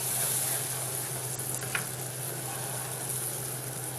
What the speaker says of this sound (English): And then you're going to stir this around.